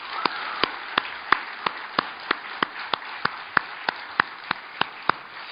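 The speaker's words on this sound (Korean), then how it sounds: "하나님께 영광의 박수를 올려드리겠습니다" Steady rhythmic hand clapping in a church service, about sixteen sharp, evenly spaced claps over a soft broadband wash of congregation noise, fairly close and alone without talk.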